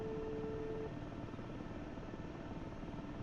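Steady close helicopter rotor and engine drone with a continuous rattling buzz throughout, loud and unbroken.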